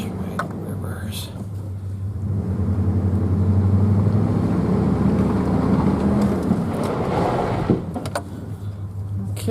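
A pickup truck, just reassembled after repairs, engine rumbling low and steady as it reverses, rising and holding for several seconds before easing off, with a few clicks and knocks at the start and end.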